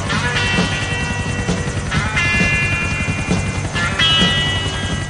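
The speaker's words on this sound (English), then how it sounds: "Now let's take the helicopter for a ride." Helicopter in GTA IV flying along with a steady, continuous rotor drone and engine whine that holds at an even loudness throughout, heard alone without talk.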